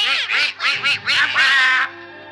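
A duck on a vintage children's story record of The Ugly Duckling quacks in a rapid series of loud, nasal bursts, then stops, leaving faint record hiss.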